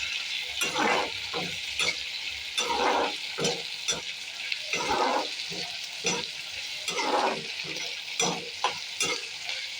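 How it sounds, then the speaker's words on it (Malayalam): Pieces of idli are stir-fried with salt in a pan, giving repeated scraping stirs over a steady close sizzle. "കുറച്ച് ഉപ്പിട്ട് ഉപ്പിട്ട് ഇളക്കി കൊടുക്കാം"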